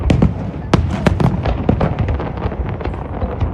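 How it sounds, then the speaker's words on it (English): Fireworks burst in rapid, irregular succession during a 4th of July show in New York City, with loud sharp cracks and booms layered over a continuous rumble. "a spectacular fireworks show which coincides with the quadricentennial"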